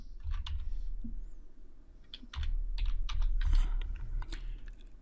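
Someone types on a computer keyboard in bursts of quick, close key clicks with brief pauses, entering text for a Scratch math quiz app.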